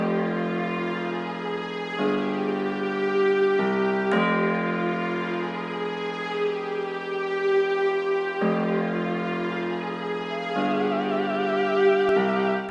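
Layered melodic loop of piano, tubular bell and operatic singing voice, built as a hip-hop beat sample; sustained tones shift in sections over about thirteen seconds, steady and fairly loud with no talking.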